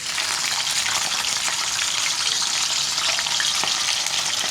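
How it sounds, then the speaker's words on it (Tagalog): Meat and skin fry hard in hot oil, a loud, steady, close crackling sizzle with sharp spattering pops throughout and no talk. "Prito na po natin mga paps."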